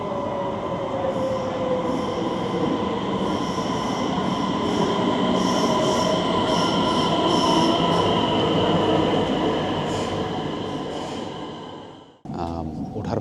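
Fast train from Stockholm to Copenhagen heard from inside, a steady loud rumble with rail hum and faint squeal, ending in a sudden drop and a brief rattling clatter.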